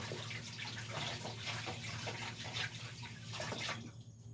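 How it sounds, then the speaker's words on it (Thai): Herbs rinsed under a running tap, a steady wash of water splashing over leaves with small shifting splashes, close and fairly quiet, cutting off near the end. "ได้มาก็มาล้างก่อนนะครับ ล้างทำความสะอาด"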